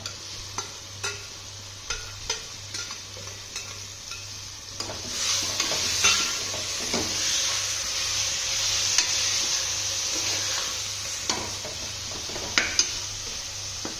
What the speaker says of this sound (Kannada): ಮೆಂತ್ಯ ಸೊಪ್ಪಿನಾಗ ಎಣ್ಣೆಲಿ ಫ್ರೈ ಆದರೆ ನಿಮ್ಗೆ ಕಷ್ಟ ಬರಲ್ಲ ಸೊ ಎಣ್ಣೆ ಚೆನ್ನಾಗಿ ಫ್ರೈ ಮಾಡ್ಕೊತಾ ಇದ್ದೀನಿ